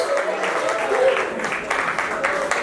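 Applause from a crowd at a charity fundraising event after a raffle prize is won, steady dense clapping throughout with a few voices and whoops over it.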